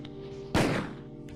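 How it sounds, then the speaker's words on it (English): A magnum revolver fires once in the PS1 game Resident Evil, a single loud, sharp blast followed by a short decaying tail over a steady low background hum. "you unlock a magnum that basically one hit kills everything in the game, and it sounds pretty cool too"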